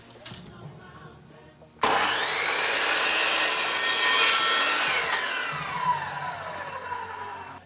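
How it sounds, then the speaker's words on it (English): A compound miter saw cuts wood for fence framing: a loud, close whine that spins up abruptly, holds steady through the cut, then winds down slowly. Faint background noise comes before it. "we have a compound miter saw"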